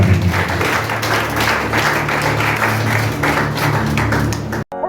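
A church congregation claps and applauds through a steady, dense wash of hands at close range, sustained and even at moderate loudness, cutting off abruptly at the very end.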